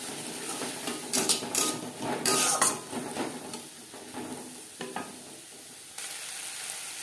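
Garlic, ginger and green chili paste frying in a pan, a close sizzle broken by bursts of spatula stirring and metal scraping against the pan.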